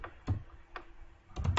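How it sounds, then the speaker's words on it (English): Computer keyboard typing: a few sparse, close key presses, single taps and a quick cluster of three at the end, over a quiet room. "I'm typing one questions."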